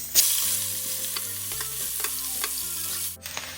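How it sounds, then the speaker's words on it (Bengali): Chopped onions fry with bay leaves and cumin in hot oil, giving a loud, steady sizzle with occasional stirring scrapes and no talking. "এবার এর মধ্যে দিয়ে দেবো পেঁয়াজ কুচি"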